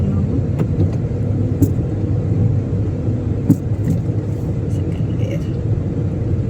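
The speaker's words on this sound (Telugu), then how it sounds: "ఇప్పుడు సెకండ్ గేర్ వేసుకున్నాము" A Tata Punch driving in second gear makes a steady, low engine and road rumble with a few light knocks and clicks from inside the cabin, while a person speaks over it.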